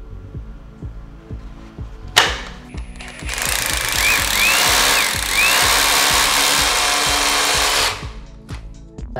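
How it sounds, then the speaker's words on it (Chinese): A hammer drill with a dust-extraction attachment, set to plain drilling mode, bores a hole into a kitchen wall: loud, continuous grinding whine for several seconds after a sharp start, then stops, with clicks and knocks around it. "那现在我就先来钻孔"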